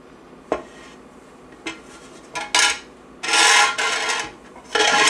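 A utensil spreads green bean casserole across a baking dish in a series of close, uneven scraping and rubbing strokes, with brief clinks against the dish and longer bursts of smearing near the end.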